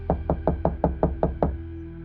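Seven sharp knocks on a door in a Hindi horror story, evenly spaced in a steady rhythm, close and distinct, then silence.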